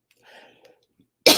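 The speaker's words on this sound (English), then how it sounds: "I gotta get a drink or I'm gonna keep coughing dust." A man coughs dry and short, muffled at first after a brief stretch of throat noise, then one loud, sharp cough bursts out at the end, at a live vintage jewelry and hatpin sale.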